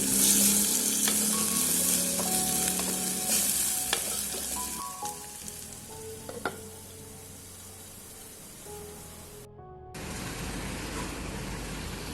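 Tomatoes sizzling steadily in a lidded pan, a loud continuous crackle and hiss that fades gradually, breaks briefly, then resumes.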